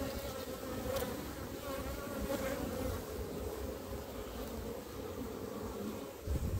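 Honeybees swarm over a brood frame lifted from a hive, their dense, steady buzzing humming close and continuous throughout without a break.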